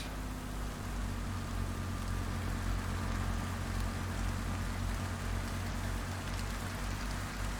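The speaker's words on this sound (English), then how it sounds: "And it's raining." Rain falls steadily while the clip is heard from inside a truck on a step deck haul, a constant soft hiss layered over a low engine rumble with no speech.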